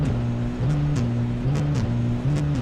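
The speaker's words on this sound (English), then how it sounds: "the drivers whack between first and second gear on the pit limiter" Touring cars in the pit lane at the Hungaroring circuit run on the pit limiter, their engine drone stepping up and down in pitch as drivers flick between first and second gear, steady and close with no talk.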